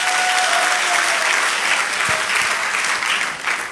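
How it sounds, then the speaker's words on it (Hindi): Loud, sustained applause from an audience fills the hall with dense, steady clapping that holds at full strength and eases off slightly near the end. "जोरदार तालियां होना चाहिए दोस्त।"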